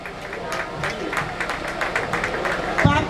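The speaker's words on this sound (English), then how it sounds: "Please, can we have a round of applause for the celebrant?" Applause from a crowd at a birthday tribute to a Nollywood actor turning 70, a steady patter of clapping with voices mixed in throughout.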